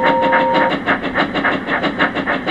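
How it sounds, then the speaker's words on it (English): An express train rushes past close by, loud with a rhythmic clickety-clack of wheels over rail joints and a brief whistle tone at the start. "Express train coming through!"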